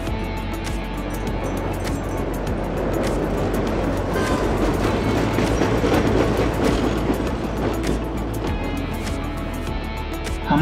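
Train ride from Interlaken to Saanen in Switzerland, heard from inside the carriage as a steady rumbling roll with faint clickety-clack, continuous and moderately loud throughout.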